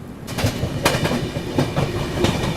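A Rajdhani train runs on a bypass line toward Chandari station, a loud close rumble with steady rhythmic clickety-clack of wheels over rail joints.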